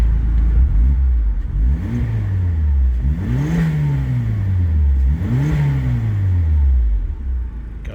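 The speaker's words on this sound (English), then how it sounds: "Got a little sound from the wastegate opening there." A 2017 Mazda MX-5 Miata RF with a BBR Stage 1 turbo kit and upgraded exhaust, revved three times in a row. Each rev is a loud rising and falling engine sweep with a hissing release of air as it falls.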